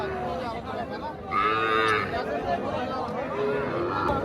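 A young Sahiwal calf, about three months old, moos loudly and close by at a busy cattle market, heard over steady crowd chatter and nearby talking.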